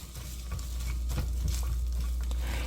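Sliced onions sauté in a spoonful of olive oil in a pan over medium heat, giving a steady, close sizzle with a few soft stirring scrapes and a low hum underneath.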